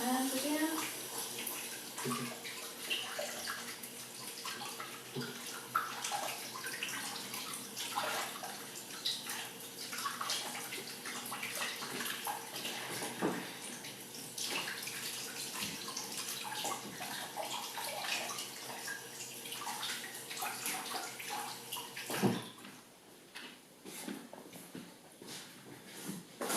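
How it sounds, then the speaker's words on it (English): Running tap water streams steadily while hands are washed, a continuous close-up wash that breaks off near the end, with a faint voice briefly in the background. "Wash my hands again."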